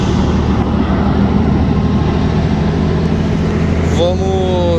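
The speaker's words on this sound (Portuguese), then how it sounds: "O scania novo." A new Scania truck's diesel engine drones steadily at close range, a loud continuous rumble that holds for a few seconds, with a brief higher tone near the end.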